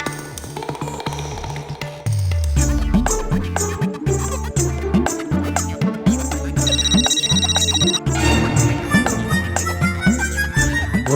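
A loud electronic phone ringtone plays a repeating melodic pattern, steady and close, filling the whole stretch without pause.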